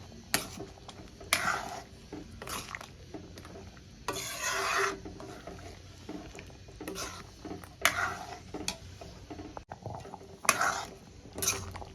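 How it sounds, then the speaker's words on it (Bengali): A ladle stirs freshly tempered bean-seed dal in a pot, making repeated rough scraping and rubbing strokes in uneven bursts with short pauses, close and moderately loud. "এবার একটা হাতা দিয়ে আমি সুন্দর করে মিক্স করে দেব।"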